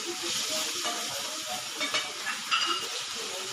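Garlic paste sizzles steadily in a hot pan while noodles are being made, a dense, continuous frying hiss with faint stirring scrapes, close and alone.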